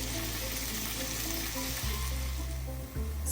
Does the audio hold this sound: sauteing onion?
yes